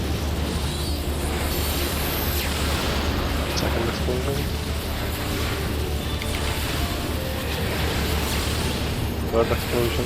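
An explosion in Final Fantasy XIV Endwalker makes a dense, sustained rumbling roar that holds steady at a loud level, mixed with game sound effects and talk over it.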